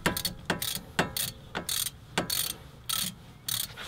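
A hand ratchet clicks in quick, repeated bursts of strokes, close and crisp, while backing out a brake bracket bolt on a Subaru WRX STI in cold outdoor conditions.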